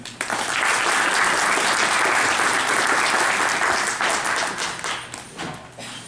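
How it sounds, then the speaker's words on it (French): Audience at a university panel on university governance in Africa applauding, a full, dense wash of clapping that starts abruptly, holds steady and loud, then thins into scattered claps near the end. "On l'applaudit."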